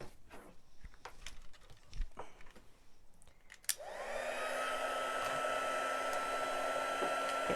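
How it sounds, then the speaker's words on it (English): A handheld heat tool switches on after a few scattered taps and clicks, then blows hot air in a steady, loud whirring hum with a faint tonal whine that holds to the end. "then the heat tool goes on"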